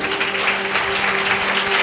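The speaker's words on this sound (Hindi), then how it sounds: "जोरदार तालियां पाखरू के लिए" Steady, dense clapping from a church congregation at a Sunday morning service, continuous and fairly loud, with a low sustained tone running underneath throughout.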